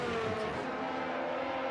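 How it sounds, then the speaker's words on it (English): Formula One cars in an F1 video game race at the Qatar Grand Prix, an esports event, producing a steady, loud engine whine with a brief rising pass early on, heard alone without talk. "These are Formula One cars."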